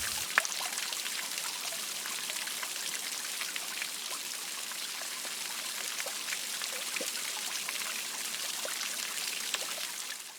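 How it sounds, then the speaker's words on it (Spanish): Steady rush of falling water from a waterfall inside a cenote at a Cancún hotel, a dense continuous splashing hiss with scattered droplet patters, even and close throughout with no voices. "lo primero que escuchas es la cascada del cenote"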